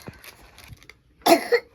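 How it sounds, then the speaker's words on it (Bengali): One short, sharp cough bursts out after a near-silent pause, followed by a softer second catch of the throat. "কাশি হচ্ছে গো"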